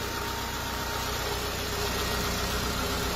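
A Citroen Saxo 1.4 petrol engine idles with a steady, even hum and a faint mechanical buzz, running alone without any voices throughout.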